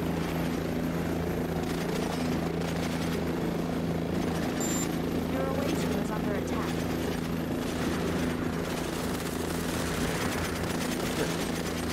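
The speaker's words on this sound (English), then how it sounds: "It sounds like a chopper." A helicopter in the video game Cepheus Protocol drones loudly overhead with a steady rotor thrum, while bursts of gunfire crackle and voices are heard over it.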